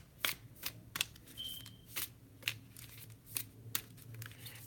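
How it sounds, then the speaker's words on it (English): Tarot cards shuffled in repeated short riffling bursts, about nine quick papery flurries spaced irregularly over a quiet room background, close and moderately loud. "How long am I going to have to shuffle?"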